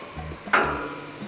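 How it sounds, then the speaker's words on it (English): A sudden loud hiss bursts out as marinated Korean beef short ribs (galbi) hit a hot grill, then settles into a softer, steady sizzle. "It should always make this sizzling sound once the meat hits the grill."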